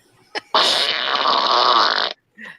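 A long, loud, raspy fart-like blast lasting about a second and a half, preceded by a brief short puff and followed by a fainter trailing burst, with no talking.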